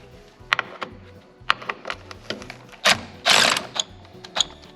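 Ratchet with a 9/16 socket turning a bolt during work on a 1977 Chevrolet C20 truck, a string of sharp clicking bursts in uneven rhythm, close and fairly loud, with no talk.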